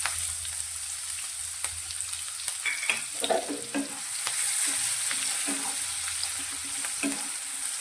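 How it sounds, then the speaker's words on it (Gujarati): Finely chopped onion sautéing in hot oil with asafoetida for bajra khichdi, a soft steady sizzle broken by repeated scraping taps of a spoon stirring, close and without speech. "ડુંગળી આપણી થોડી સંતળાય ત્યાં સુધી તેને આ રીતે આપણે હલાવશું."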